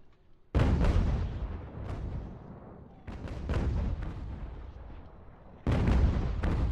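Artillery cannons firing during a fort siege in the strategy game Ultimate General: American Revolution, three heavy booming volleys in succession, each a loud deep blast with a rumbling decay, no talking.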